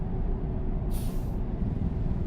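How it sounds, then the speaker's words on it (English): A truck's engine brake in a driving simulator game gives a short burst of hissing release over a steady, loud low rumble of the engine. "And here's a Jake brake. You can kind of hear it."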